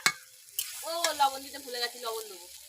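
Potatoes sauté in a pan with a soft, steady sizzle and occasional stirring clatter, largely under a person talking nearby.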